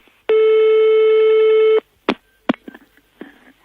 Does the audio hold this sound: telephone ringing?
yes